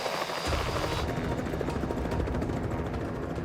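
A helicopter hovers over dense Alaskan wilderness trees, lifting crashed plane wreckage on a 150-foot line. The rotor roar is loud, close and steady throughout.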